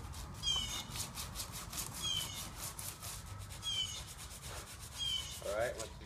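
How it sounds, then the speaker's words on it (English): A puzzle cube being sanded in short repeated strokes, a faint scratchy rubbing that comes in bursts about every one and a half seconds against a quiet background. "You're gonna want to sand it up a bit so it's a bit more level and it sticks better."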